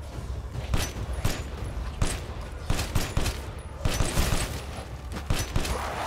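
Gunfire from a weapon in the video game Resident Evil Village, with loud, close shots fired in quick repeated bursts and short pauses between volleys.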